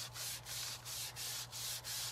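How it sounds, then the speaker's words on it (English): Rubbing over a DIY wooden sign to distress it, heard as close, soft, rhythmic back-and-forth scrubbing strokes of even pace, with no voices. "I'm just going to rub over this a little bit and pick up any extra"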